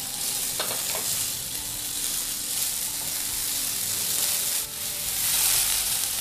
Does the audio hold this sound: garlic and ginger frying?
yes